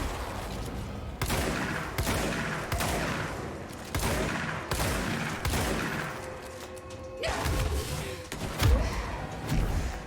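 Repeated bursts of gunfire ring out in the video game Control, heavy sharp volleys recurring every second or so with booming impacts, loud and continuous over ten seconds.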